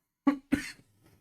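Two sharp coughs in quick succession, close to the microphone, followed by a faint throat sound, with no talking.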